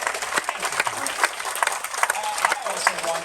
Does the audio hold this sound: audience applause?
yes